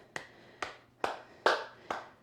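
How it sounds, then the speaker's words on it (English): Five sharp hand claps, evenly spaced about half a second apart, overhead during a mom-and-baby yoga class, fairly close with a soft ringing tail after each and no talking. "clap above your head"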